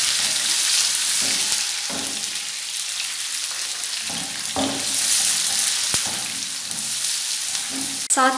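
Sliced onions fry in a pan for mash daal, giving a constant loud, close sizzle with occasional soft stirring scrapes and a clink near the end, and no one talks.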